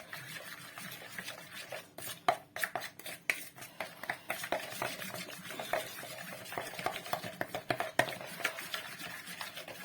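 A spoon stirs a spiced marinade without fresh garlic or onion for grilled chicken drumsticks, producing close, repeated scraping and clinking against the bowl in uneven bursts, with no talking.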